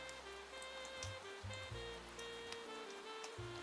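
Constant rain with a soft patter and scattered drips, faint and distant, under a low sustained musical drone with shifting tones and occasional deep thuds.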